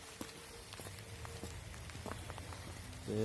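Steady rain patters and splashes throughout, with scattered louder drips, and a brief tonal hum near the end.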